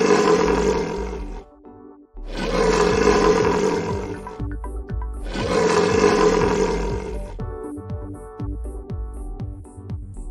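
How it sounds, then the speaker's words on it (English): A lion roars in long, loud bursts, two big roars separated by short pauses. Each trails into a series of deep grunting huffs. There is no talking. "Lion."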